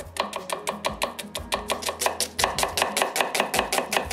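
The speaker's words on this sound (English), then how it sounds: "I just want to cut a few olives" A knife chops olives on a cutting board in a quick, steady run of about two dozen crisp, close knocks.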